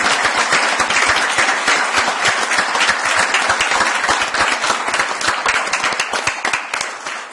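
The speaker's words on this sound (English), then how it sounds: "let's give them a round of applause" An audience at a town council meeting gives sustained applause for visiting business guests, dense close clapping that stays loud throughout and tapers off slightly at the end.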